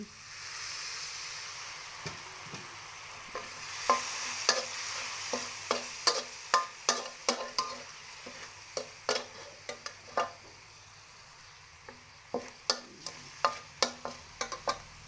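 Isan sausage stir-fried with holy basil in a pan, a soft sizzle running underneath as a spatula scrapes and clicks against the pan in a steady series of sharp taps, more frequent in the second half.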